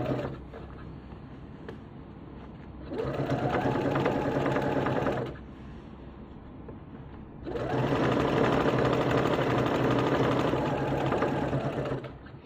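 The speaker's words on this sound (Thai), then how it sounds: "ทำแบบนี้ นะคะทำฝั่งเดียวนะคะ เย็บฝั่งเดียวนะ ทำทั้งสองชิ้นนะ" A sewing machine stitching one side of a cloth face mask, running in two steady whirring bursts of a few seconds each, separated by quieter pauses with faint handling noise.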